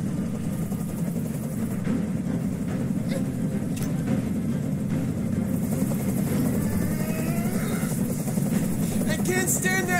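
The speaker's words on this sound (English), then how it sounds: "I can't stand that noise anymore. Tell that helicopter to get out of here." A steady helicopter rotor drone from the video game Detroit: Become Human fills the background throughout, continuous and unchanging, with a voice speaking over it at times.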